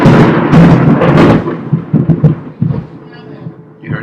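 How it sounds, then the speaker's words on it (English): Thunder from lightning rolls in loud and close as a deep, rumbling crash that decays in uneven waves over several seconds, fading to quiet near the end. "You heard the lightning?"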